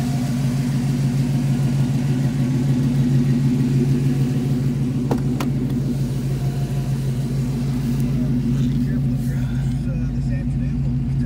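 A 1937 Ford all-steel two-door coupe with a ZZ-4 GM 340 hp V8 idles smoothly. The engine gives a steady, close, unbroken low hum and rumble throughout, with a brief click midway.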